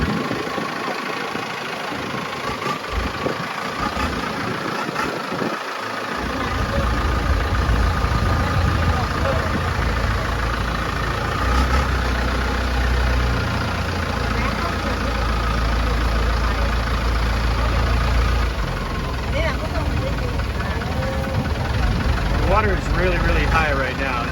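A steady low engine drone runs throughout, starting after a few quieter seconds with faint background sounds, then continuing evenly as a boat motors along a canal at Amphawa Floating Market, Thailand.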